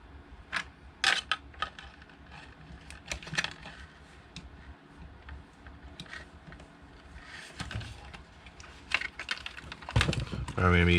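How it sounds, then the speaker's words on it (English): Small screws being worked loose from a Traxxas Bandit RC car during a brushless motor swap, heard as scattered sharp ticks and clicks of metal and plastic at close range, with faint background noise and no clear talk. "Get these screws out."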